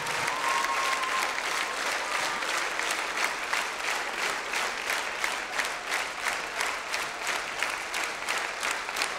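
Enthusiastic applause from a large audience at a charity Easter orchestra concert, steady and sustained with slight rhythmic pulsing, filling the whole stretch.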